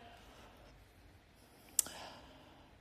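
A single sharp mouse click on an apply button, brief and fairly close, standing alone against a quiet room background.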